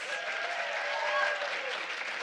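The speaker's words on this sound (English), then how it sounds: "Just give one more big round of applause for these poets." Audience applause at a capstone poetry reading closing out the night, a steady full wash of many hands clapping throughout, fairly close and even in level with no pauses.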